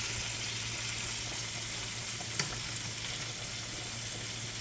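Shrimp fry in butter in a pan with a steady, dense sizzle and crackle heard up close, broken by a couple of faint clinks.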